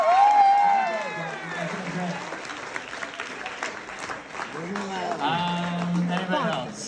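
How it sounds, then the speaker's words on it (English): An audience at a comedy show in Moncton breaks into steady clapping and cheering for a young woman from the crowd, with voices talking and calling out over the applause throughout. "round of applause for this young lady."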